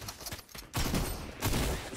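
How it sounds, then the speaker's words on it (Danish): Gunfire rattles in the video game Fortnite, two bursts of rapid shots that sound muffled and moderately distant, with no voices over them. "Jeg har lige skudt på Luffy"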